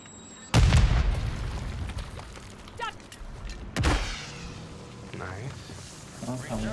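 Precision airstrike or mortar explosions in Call of Duty: Modern Warfare III, two heavy booming blasts with rumbling tails and scattered smaller pops, while players talk over the fight.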